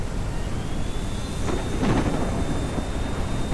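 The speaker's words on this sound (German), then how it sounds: "wo es schüttet wie aus Eimern und richtig übles Gewitter hier am Start ist" Heavy rain hisses steadily while thunder rumbles loudly in the middle of the video game Ranch Simulator, a dense, continuous storm with no voices.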